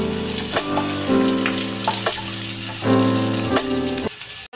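Whole cumin and chopped onion sizzle loudly in hot oil in a pan, a dense continuous frying hiss close by, broken by a few rhythmic scraping clinks of a spatula stirring.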